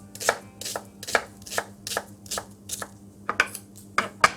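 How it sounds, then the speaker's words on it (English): A knife dices large onions on a cutting board, giving a steady run of about a dozen crisp chops at an easy pace, close by with no voices. "when you're dicing the onion, if you just do it nice and easy"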